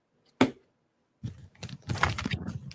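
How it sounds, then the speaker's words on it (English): Tarot cards are shuffled by hand, a single crisp snap followed after a pause by a run of quick riffling and flicking card sounds, close up and without speech. "These cards don't want to shuffle."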